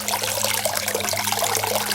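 Water runs steadily along the channel of a stone washing basin, a continuous close trickling and gurgling that stays even throughout with no talk over it.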